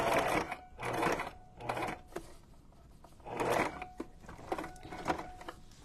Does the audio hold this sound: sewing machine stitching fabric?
yes